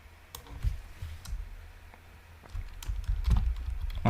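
Soft keystrokes tap on a computer keyboard in uneven bursts, faint and close, with a low background hum and no talking.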